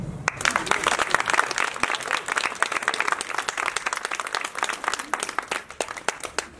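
An audience applauds warmly at the welcome of the Mother General of the Little Sisters of the Poor in Bordeaux, a dense, steady wash of many hands clapping close by throughout, with no talk over it.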